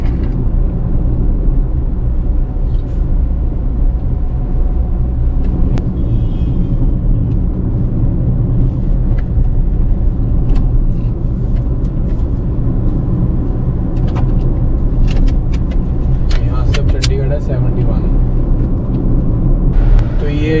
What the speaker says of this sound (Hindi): ये नीचे जो लेफ्ट साइड से सर्विस लेन में आ रही हैं गाड़ियाँ